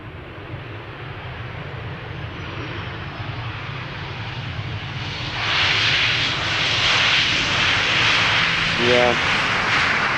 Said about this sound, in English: Ryanair flight 420 arriving from Dublin, Ireland.